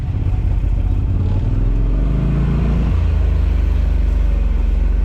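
A UTV side-by-side in two-wheel drive revs hard on ice, its engine a loud, steady low rumble that climbs and shifts pitch midway, close and continuous with no voices.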